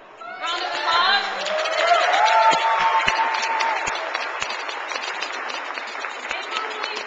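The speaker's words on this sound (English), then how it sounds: "How many of you are going to be back in the Capitol? Round of applause." Rally crowd applauding and cheering at a 2009 Freedom to Marry Day event at the Minnesota State Capitol, a steady wash of dense clapping that swells then holds for several seconds, with voices mixed in.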